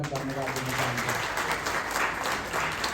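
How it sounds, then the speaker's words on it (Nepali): A crowd claps to thank a guest at a gathering with journalists present, steady applause that fills the whole stretch, with low murmuring voices underneath at the start. "उहाँलाई पनि हामी ताली बजाएर धन्यवाद दिन चाहन्छौँ।"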